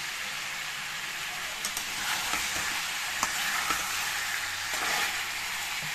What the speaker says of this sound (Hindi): तो फ्रेंड्स, 5 मिनट हो गया है फ्राई करते हुए